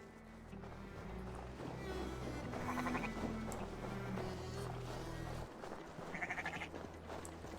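Sheep bleat repeatedly in Assassin's Creed Valhalla over a busy, layered background of music and ambient noise, the calls rising in bursts around the middle and near the end.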